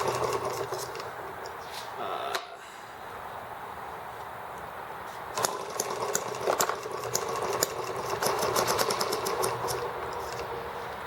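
An ET8 engine with a needle valve runs steadily after starting, a close, continuous buzzing drone with a brief dip early on and small rattling ticks throughout.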